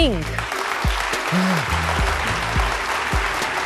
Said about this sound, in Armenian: Խնդրում եմ բարձր ծափահարություններով դիմավորեք